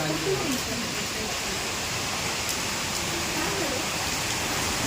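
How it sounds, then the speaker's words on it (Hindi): Heavy monsoon rain pours down steadily, a dense continuous hiss with faint voices murmuring underneath. "झमाझम बारिश आ गई"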